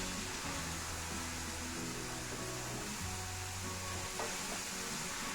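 Sprouted pavta (field beans) are being sautéed in a pan over a high flame, giving a quiet, steady hiss and sizzle with faint stirring underneath, and no talk.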